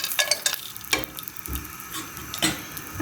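Cashew nuts fry in a spoonful of ghee in a frying pan, giving a soft steady sizzle broken by light stirring scrapes and taps.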